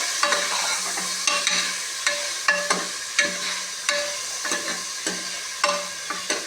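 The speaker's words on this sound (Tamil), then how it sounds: "சும்மா ஒரு வதக்குனாலே போதும்." Eggplant, three of them, sautéing in a pan for vegetable sambar, with steady sizzling broken by repeated sharp scrapes and clacks of a spatula stirring at close range, roughly once or twice a second.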